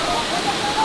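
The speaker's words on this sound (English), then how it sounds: "Beautiful waterfall here." A jungle waterfall on Rinjani, about 40 meters tall, roars in a loud, steady broadband rush heard close up.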